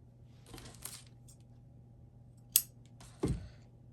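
Scissors give a few short, close snips through a small piece of black felt fleece, spaced out amid quiet handling noises.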